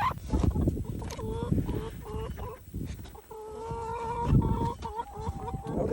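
Hens in a backyard chicken coop give repeated low clucks and drawn-out, wavering calls, close and fairly loud over rustling movement.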